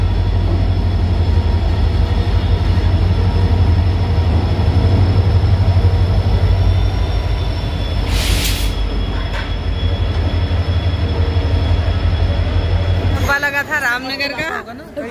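A train rumbles on continuously at a railway station platform, with a loud steady low drone and scattered rattles, then ends abruptly in a burst of nearby voices.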